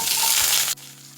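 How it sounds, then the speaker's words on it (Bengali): Mustard seeds crackle and spit in hot oil with a loud, dense sizzle that cuts off abruptly partway through, leaving only a low, quiet hum. "দেখুন সর্ষেটা ফাটতে শুরু করেছে এবার আমি এর মধ্যে আম দিয়ে দিচ্ছি"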